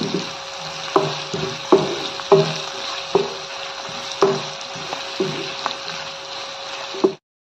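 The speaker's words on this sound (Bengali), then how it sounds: "এখন আবারও কিছুক্ষণ আমি ভেজে নেব" Onion with garlic and ginger paste fries in a pan for a hilsa fish bhuna: a continuous hiss punctuated by regular spatula knocks about once a second, stopping abruptly at the end.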